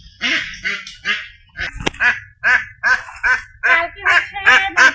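Several of a small flock of newly bought domestic ducks quack loudly and close by in a rapid, repeated series of nasal calls, with no one talking over them.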